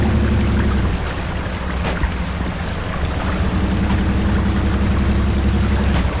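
Truck engine droning low and steady while pushing through a river in the video game Spintires MudRunner, with broad rushing water noise layered throughout.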